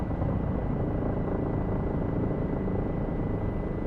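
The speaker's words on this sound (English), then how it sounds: "Gonna stop the helicopter from descending." Helicopter flying and descending toward a helipad, a loud, steady rotor and engine roar with a constant low drone and no pauses.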